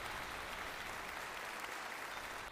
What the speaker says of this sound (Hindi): खुशी से सबने जोरदार तालियां बजाईं